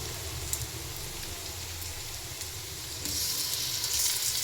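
Diced tomatoes hit a hot pan of fried dal and potatoes for a Kannada avarekalu sambar. A steady sizzle runs throughout and swells louder and brighter partway through.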